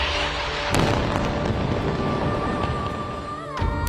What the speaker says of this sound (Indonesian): sebuah ledakan mengguncang sebuah penginapan mewah